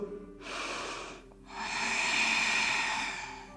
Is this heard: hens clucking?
no